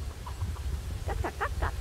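Several chickens cluck in short, sharp bursts: a few faint calls early on, then a cluster of louder, closer clucks toward the end over a steady low background rumble.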